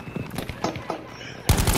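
Rapid Battlefield V gunfire crackles in uneven bursts of overlapping shots, then one loud volley erupts at the end.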